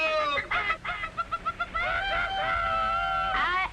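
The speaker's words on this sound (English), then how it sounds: "Cock-a-doodle-doo." A rooster gives a run of short, sharp clucks followed by a long, drawn-out crow, loud and close with no other sound around it.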